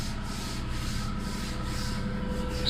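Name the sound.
sanding primer on a VW Beetle roof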